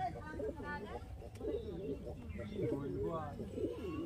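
Giribaj pigeons in Kulpi coo in close, repeated throaty rolls, one bubbling phrase after another over a few seconds.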